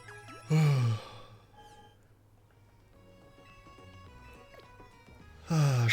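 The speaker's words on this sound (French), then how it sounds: "je commence à bâiller, c'est bon signe" A person yawns twice during a Pokémon Legends Z-A gaming session, each a drawn-out breathy exhale, one near the start and one at the end, with quiet game music and sounds in between.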